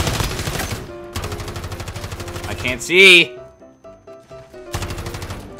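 DP-28 machine gun in Call of Duty: Modern Warfare firing in rapid bursts, loud and close, followed by a sharp louder blast and a few scattered shots, with a person talking over the gunfire.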